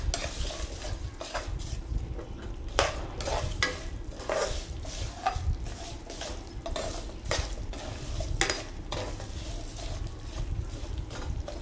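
Coriander seeds and garlic frying in a pan, with a light sizzle under repeated scraping and stirring clatter from a utensil against the pan.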